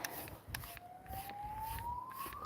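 A police car or ambulance siren on a nearby main road, one long rising wail held steady at moderate distance over faint background noise, with no talking.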